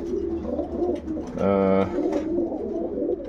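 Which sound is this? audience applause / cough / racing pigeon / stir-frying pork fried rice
racing pigeon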